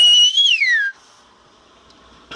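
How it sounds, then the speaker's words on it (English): A person whistles the Spanish name Pedro in whistle language, a loud, clear two-part whistled phrase with a rising then gliding-down pitch, followed by near silence. "so I would whistle a Pedro"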